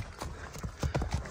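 Horse hooves clip-clopping close by as the horse is brought to a stop, a quick irregular series of firm thuds.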